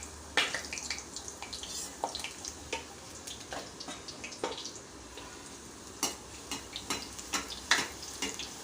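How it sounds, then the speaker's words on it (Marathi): Puris deep-frying in hot oil: a steady crackling sizzle with scattered sharp pops and spatters throughout, fairly close, with no talking. "तर हे बघा आपण अशा प्रकारे पुऱ्या संपूर्ण तळून घेऊया"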